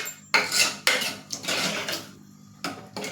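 A spoon stirs moraiya and water inside a metal pressure cooker, giving close, repeated scraping and clinking strokes in an uneven rhythm with brief pauses.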